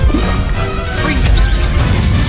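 A Confringo blast spell goes off in the Hogwarts Legacy video game as a loud, crashing impact. It sits inside a dense, continuous din of battle noise and effects.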